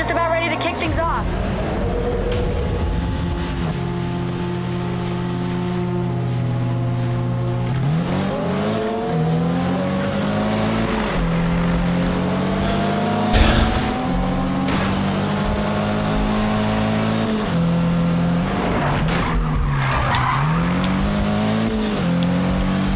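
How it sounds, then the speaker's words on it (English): A racing car in Need for Speed throws a sharp e-brake turn, its engine revving up and down through the gears with tire noise, loud and close, under a speaking voice. "Definitely having to kick that e-brake harder now to get that sharp turn in."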